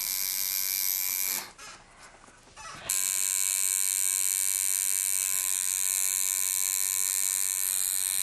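Continuous high-pitched electric buzz of a tattoo machine applying black ink, briefly cutting out for about a second before resuming steadily, close and alone with no voices.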